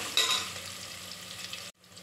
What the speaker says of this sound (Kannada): ಬೆಳ್ಳುಳ್ಳಿ ಗೋಲ್ಡನ್ ಬ್ರೌನ್ ಬರೋ ತನಕ ಫ್ರೈ ಮಾಡ್ಕೋಬೇಕು.